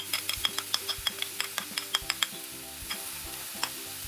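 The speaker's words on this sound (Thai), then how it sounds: "จากนั้นผัดคลุกเคล้าให้ส่วนผสมเข้ากัน" Fern shoots with shrimp, soy sauce, sugar and oyster sauce stir-fried in a pan: a close steady sizzle over rapid, rhythmic ticking scrapes of the spatula against the pan, with no talk.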